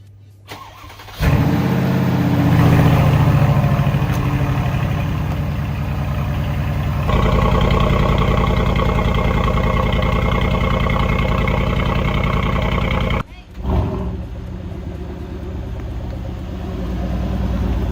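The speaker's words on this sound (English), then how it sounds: "So let's do a cold start on this Brabus 700 monster" A Brabus 700 6x6 is started cold, with a starter crank followed by a loud, deep engine catching. It holds a rough idle that shifts in pitch partway through, then cuts out briefly and restarts.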